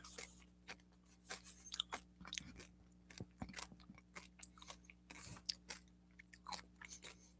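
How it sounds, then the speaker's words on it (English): Close, wet chewing of food with repeated crunchy bites in an irregular rhythm over several seconds, fairly quiet against a low steady hum, with no talking. "this takes a long time to chew"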